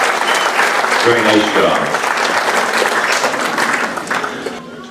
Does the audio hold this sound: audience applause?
yes